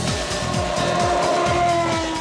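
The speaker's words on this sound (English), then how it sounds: "when a Formula One race car takes off from a standing start" A Formula One race car launches from a standing start, its engine note surging loudly and continuously with repeated rising pitch sweeps through rapid gear changes, close and unbroken throughout.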